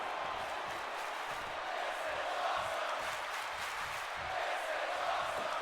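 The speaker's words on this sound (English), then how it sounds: "You can hear the crowd screaming" A wrestling arena crowd in Greece screams and cheers during a championship match, a dense, continuous roar that swells slightly, with a commentator's voice faintly underneath.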